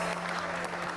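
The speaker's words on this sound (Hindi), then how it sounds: "फबिया हाशमी के लिए बहुत ज्यादा तालियां" Studio audience applauding for guest Fabiha Hashmi on a talk show, a steady wash of clapping heard in a brief burst with a low constant hum underneath.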